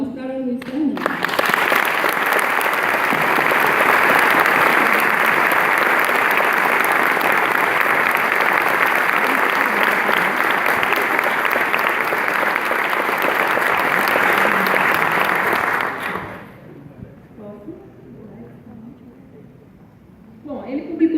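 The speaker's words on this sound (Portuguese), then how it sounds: "Peço palmas para o Luiz Fernando" Long, loud, even applause from a conference audience, sustained for about fifteen seconds before cutting off abruptly into quiet room noise and faint murmurs.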